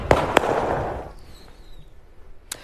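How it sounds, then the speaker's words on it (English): Fireworks going off inside a burning storage facility in Middle Township, Cape May, heard as two sharp close bangs followed by crackling that fades, then another distant pop near the end, with no talk. "And that's the sound of fireworks."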